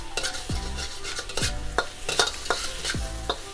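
Fried rice with eggs, butter and soy sauce is stirred in a hot pan. Sharp metal scrapes and clanks repeat roughly once a second over a steady sizzle, close by and without talk.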